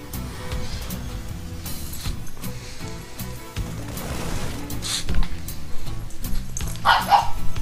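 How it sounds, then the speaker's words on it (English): Dog barking indoors during a StarCraft II match, repeated bow-wow barks and yips with some whimpering, fairly close and loud over game music and sound effects. "Dog,"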